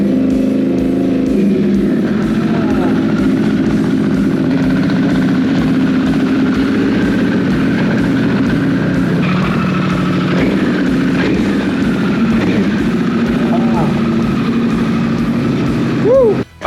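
A Harley-Davidson Pan America motorcycle engine runs loud and close after a fuel pump replacement, a steady throaty idle with a couple of brief revs rising and falling, with some talk in the background.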